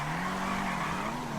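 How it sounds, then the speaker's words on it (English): Tires squeal and skid as a Maibatshu Penumbra FF drifts in GTA Online, a sustained whining screech with engine tone underneath, lasting just over a second. "So I was just trying if this car can drift or not. It did skid out"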